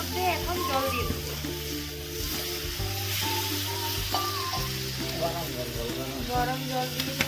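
Country chicken cooks in a pan over a clay stove as hot water is added, setting off a loud continuous sizzle and bubbling hiss, heard up close while someone talks over it.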